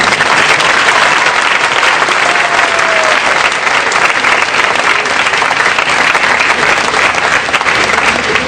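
Loud, sustained clapping from a class audience, an even, dense roar of hands close by that holds steady throughout.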